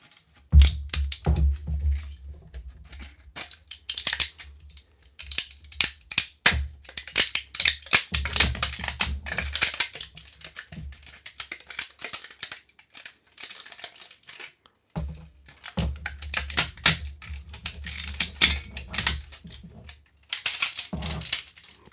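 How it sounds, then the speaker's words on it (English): 3D-printed plastic parts for a Masters of the Universe project are cracked off the print one after another. Sharp snaps and clicks come close up in irregular bursts, with brief pauses between them. "watch me crack all these parts off"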